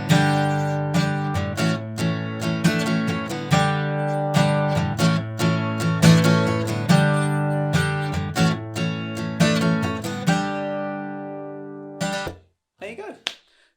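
Acoustic guitar strums a simple two-chord song with a sus4 embellishment, steady down and up strokes in a lively rhythm, close and loud, played alone for several bars before stopping with a brief scrape.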